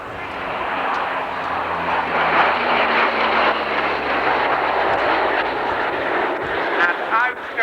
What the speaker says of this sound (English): bringing this Combat Talon Hercules along with the ramp at the back open